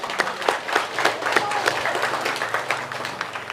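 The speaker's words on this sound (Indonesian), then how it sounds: "Tepuk tangan." A church congregation claps along in a Sunday school service, rapid uneven hand claps forming a dense, fairly close patter that runs steadily throughout with some voices mixed in.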